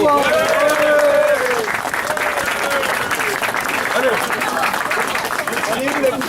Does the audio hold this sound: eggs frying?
no